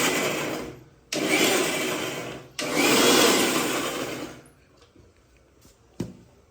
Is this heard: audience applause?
no